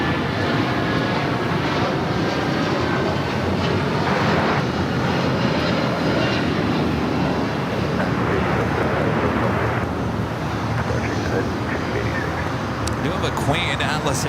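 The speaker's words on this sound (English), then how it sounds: "We got that United 757 now taking off" A United Boeing 757 jet takes off at Los Angeles airport, its engines a loud, steady broadband roar that holds for the whole stretch, with wind buffeting the microphone and a voice talking over it.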